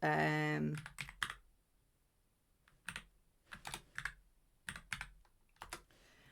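Bursts of computer keyboard typing: a quick flurry of keystrokes, a pause, then several short clusters of key presses, close and fairly quiet.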